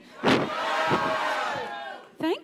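Summit audience shouting together on cue, a loud collective roar from a large crowd sustained for about two seconds in a hall, followed by a brief single voiced whoop.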